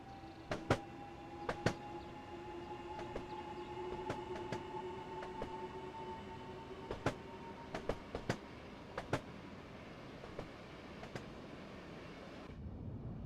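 A Southeastern high-speed train runs in the Train Sim World 2 simulator, giving a steady rolling rumble with a sustained tonal whine and repeated sharp clicks from the rails, with no voices.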